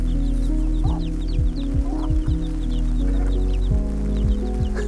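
Several six-week-old chickens cluck and cheep steadily at close range, with soft repeated peeps and low clucks over a constant background hum.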